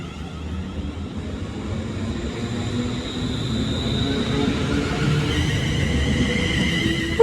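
London Northwestern Railway electric train, units 354.8 and 351.14, passing on the Tring to London Euston line with a steady rumbling roar and a rising whine that builds over several seconds.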